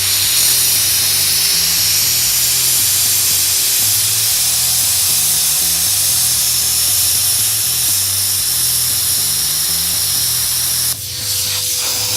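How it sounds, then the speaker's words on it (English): A Powermax 45XP plasma cutter at 15 amps slicing 14 gauge sheet metal with a bracket on it: a loud, steady roaring hiss for about eleven seconds that then cuts off abruptly. "So 15 amps, this is some 14 gauge thin sheet metal on here with a 3/16 bracket on it. And just slice this off here real fast."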